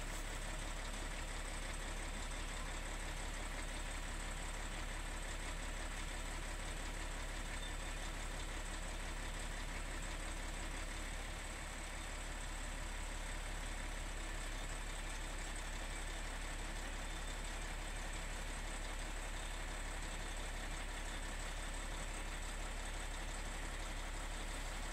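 A Cummins X15 diesel idles in a Peterbilt 567 truck, fully warmed after a regen, during a blow-by test: a steady, even low drone and hum that holds unchanged throughout, with no talk.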